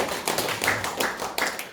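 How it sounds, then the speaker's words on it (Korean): An audience at an agricultural seminar on microbial farming applauds, close, loud uneven clapping in short bursts across the whole moment. "박수 한번 부탁드립니다."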